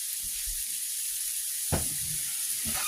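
Food sizzling steadily in a hot pan on a home stovetop, a constant bright hiss with a sharper crackle and spatter partway through.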